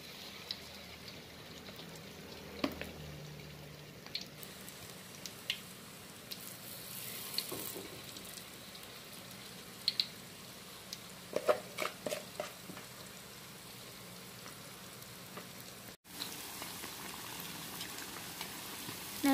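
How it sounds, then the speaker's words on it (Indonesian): Vegetable fritters (bakwan sayur) fry in hot oil, a soft steady sizzle with occasional crackles and pops, quiet and continuous without talk. "Kemudian kita goreng ya sampai berwarna kuning kecoklatan."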